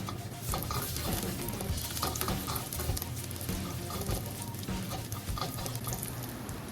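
Sliced ginger frying in hot cooking oil in a pot while making pork belly Bicol Express, a steady dense sizzle and crackle with occasional stirring clatter, close and continuous, no talking.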